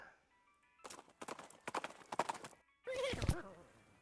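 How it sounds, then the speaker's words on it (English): Cart horse in the West of Loathing video game: a run of crisp hoof clip-clops in uneven bursts, then a loud whinnying neigh near the end, close and clear with no talk. "You help the confused settlers figure out how to sit on the back of a cart horse and lead them back to Dirtwater on a rope."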